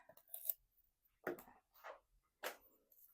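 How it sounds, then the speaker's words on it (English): Scissors snipping a small bit off a piece of craft material, a few quiet separate cuts with short pauses between them in a near-silent room. "Just cut a little bit off."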